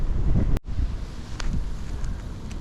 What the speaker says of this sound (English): I've definitely got the wind behind me